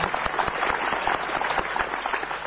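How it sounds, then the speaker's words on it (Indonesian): An audience claps in a warm, steady round of applause that continues without a break, fairly close and full. "Karena itu kita berikan aplaus."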